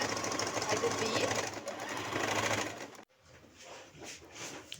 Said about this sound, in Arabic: وضروري بديت نخيط على الجهه الزاويه كيما وريتكم